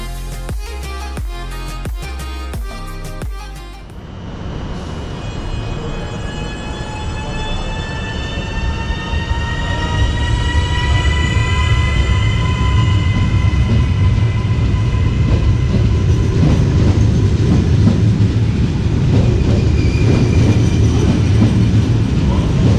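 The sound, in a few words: Hitachi Caravaggio Rock train departing Genoa Piazza Principe station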